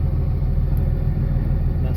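A steady, loud low rumble of a Cummins diesel pickup truck engine while driving, a continuous drone with no breaks.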